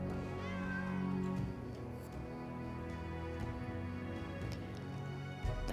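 A cat meows in the fantasy role-playing game Pathfinder: Kingmaker, heard over a dense, steady layer of game music and ambience that continues throughout.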